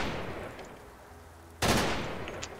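A full-auto .308 rifle with assault stock, assault barrel and a 30-round magazine fires in Fallout 4: a loud, sharp burst cracks out after a fading tail from earlier shots, then rings down.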